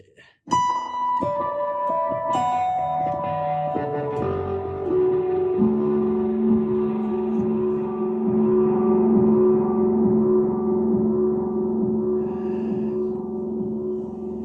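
Electric guitar notes ring out through effects pedals, sustaining and blooming into a long, washy, droning tone that slowly fades.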